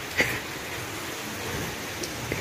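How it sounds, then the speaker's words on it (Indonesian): Steady rain falls outside a mosque in Kampung Naga, a Sundanese village, heard as a continuous soft hiss with a few faint scattered drops and no talk over it. "Tapi kita menikmati suasananya karena di luar hujan"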